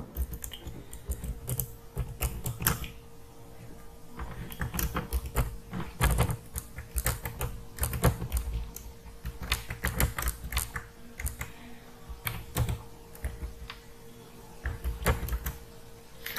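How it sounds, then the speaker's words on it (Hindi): Sustained data-entry typing on a computer keyboard, a dense, uneven stream of close key clicks with brief pauses, no talking. "जैसे मैं थोड़ा सा टाइप आपको करके दिखा देता हूँ"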